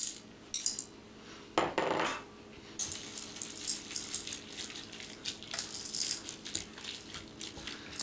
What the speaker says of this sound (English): Now you're gonna whisk it until it's gonna be thick and smooth